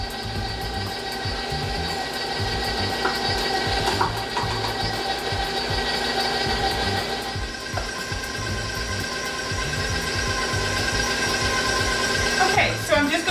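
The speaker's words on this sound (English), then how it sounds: "what I'm going to do is turn our mixer on to the lowest speed," An electric mixer runs on its lowest speed through powdered sugar icing, whirring steadily with a mechanical, gear-like rattle and a constant hum, while someone talks over it.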